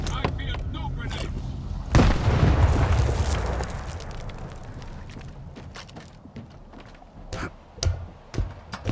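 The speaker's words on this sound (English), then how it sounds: "Brothers, I'm throwing a grenade." A loud grenade blast in the S.T.A.L.K.E.R. 2 video game erupts with a deep boom and rumbling decay, followed by scattered sharp gunshots and pops in the distance.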